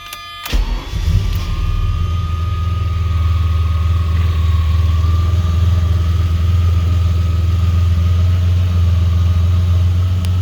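A 1988 Ferrari Testarossa engine cranks and catches with a brief burst, then settles into a steady, loud, close idle with a deep even drone.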